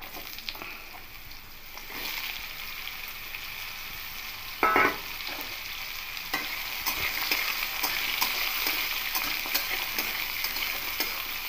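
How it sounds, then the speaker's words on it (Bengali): Chopped bottle gourd fries in a pan with garlic, giving a steady sizzle under occasional stirring scrapes and clinks, including one sharp knock near the middle. "লাউগুলো একটু ভেজে নেব।"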